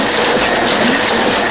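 An offset printing machine runs while printing wedding invitation cards, giving a dense, steady mechanical clatter and whir of gears and ratcheting parts, loud and continuous with no talking.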